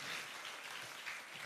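Audience applause at a church evening worship service, a faint, steady wash of clapping with no talk over it.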